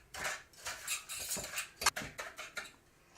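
A spoon works through a cornmeal coating with salt in a bowl, producing a series of light, close scraping and clinking strokes in an irregular rhythm, quiet and without talk.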